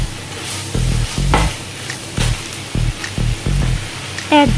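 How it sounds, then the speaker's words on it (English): Pancit rice noodles with vegetables stirred in a hot pan, with bursts of scraping and tossing over a continuous sizzle and a few clinks of the utensil, close and loud. "Stir well again."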